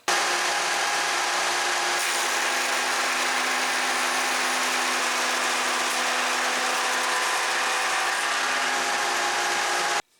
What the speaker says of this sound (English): I'll test the tongue shaper cutter on the Shopsmith overhead routing setup